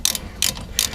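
A ratchet tightens front suspension bolts on a Lincoln or Ford, three quick bursts of crisp metallic clicking evenly spaced and close by.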